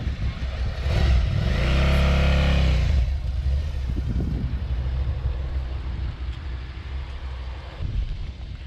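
A learner motorcyclist rides during training, the engine revving up loudly close by and then easing off as the bike pulls away. A steady rumble and wind noise follow.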